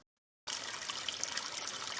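Cold water trickles and splashes steadily beside a railway track on a hill route near Nanu Oya, Sri Lanka, a close, even rushing hiss that begins abruptly after a brief silence and runs unbroken.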